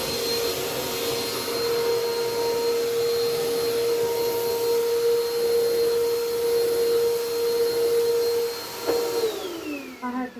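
Vacuum cleaner running in a living room, a loud steady motor whine with a sustained tone that holds for about eight seconds before winding down near the end.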